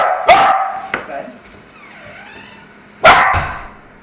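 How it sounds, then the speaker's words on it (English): A dog barks sharply twice, a loud close bark followed by a second burst a few seconds later, while people give training instructions around it. "No food because he's barking."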